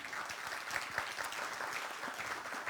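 Audience applause at a Korean broadcasting forum award announcement, a steady dense patter of many hands clapping at moderate distance, continuous throughout with no talk over it.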